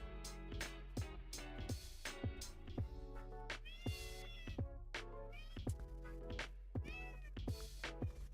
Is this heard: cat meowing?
yes